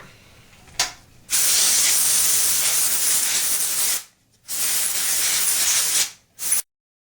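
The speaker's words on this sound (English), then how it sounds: "we're going to take some air jet and we're going to spray this out" Loud bursts of canned compressed air spraying close up while cleaning a Super Nintendo console, two long sustained hisses plus a short puff, separated by brief pauses.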